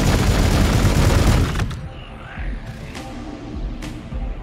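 Video game battle gunfire in Warhammer 40,000: Gladius, a loud dense burst of rapid shots and booms that cuts off, followed by quieter scattered impacts and whooshes, with a voice speaking faintly.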